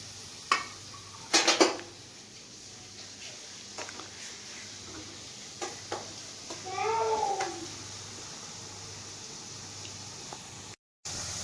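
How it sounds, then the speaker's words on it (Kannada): Grated beetroot tipped into a pan in a home kitchen, with a few sharp clinks of utensils against metal and a soft sizzling rustle as it lands, fairly close with quiet gaps between. "ತುರಿದಿಟ್ಕೊಂಡಿರುವಂಥ ಬೀಟ್ರೋಟ್ನ ಈಗ ನಾನು ಹಾಕೊತಾ ಇದ್ದೀನಿ"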